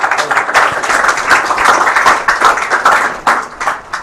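A classroom audience at an IAS coaching institute claps loudly and close by, uneven bursts of hand claps with a few cheers rising and falling over about four seconds.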